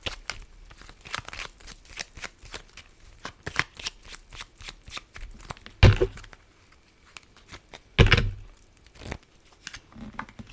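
Tarot cards being shuffled and drawn, a steady dense riffling patter with several sharper snaps as cards are pulled, close and alone without talk.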